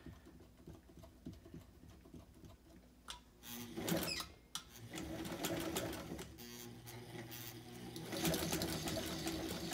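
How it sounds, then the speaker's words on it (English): A Singer 99k sewing machine winding a bobbin under foot-pedal control: a quiet, steady mechanical whir with light rhythmic patter, rising in intensity after a few seconds and running continuously, with faint handling clicks. "At this point you would just take your winder and use your foot pedal."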